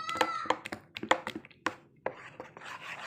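Hands mix rice flour batter with chili powder, salt, ginger paste and water for chapri pitha, making irregular wet slaps and soft squelching taps close by.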